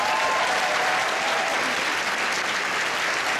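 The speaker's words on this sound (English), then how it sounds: "let's give another applause for our chorus, Miss Hall." An audience at a Stuyvesant High School commencement applauds the chorus, a steady, dense wash of clapping that holds evenly throughout without pause.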